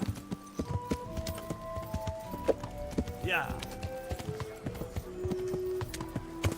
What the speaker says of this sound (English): I swear I could walk faster than this horse runs